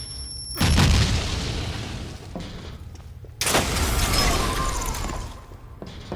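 A grenade blast in the video game Meet Your Maker: a loud boom with crashing debris, then a second booming burst a few seconds later, with mechanical clatter in between and no talking.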